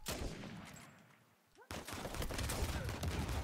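Sniper rifle gunshots in Uncharted 4 multiplayer: a sharp loud shot at the start, a quieter lull, then another abrupt crack followed by dense, continuous game gunfire and action noise.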